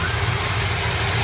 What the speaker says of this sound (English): So the engine's pretty warmed up, so we're just setting the timing, mucking around with the fuel adjustment.